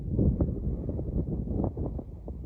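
Steady wind buffets the microphone with a low, gusty rumble throughout on a mesa trail at Chaco Canyon. Nothing else stands out.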